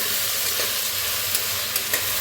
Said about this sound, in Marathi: आता ह्याच्यात टाकूया टमाटरला छान भाजून घेऊया।